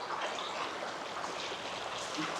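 Ganga water flows in a steady, soft rush like a small waterfall, a continuous gentle splash heard alone at a modest distance.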